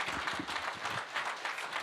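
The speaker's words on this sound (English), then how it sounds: "More round of applause for the governor of Nairobi" An audience applauds the governor of Nairobi at the launch of the Prism Tower in Upperhill, a dense, steady wash of many hands clapping that carries on throughout.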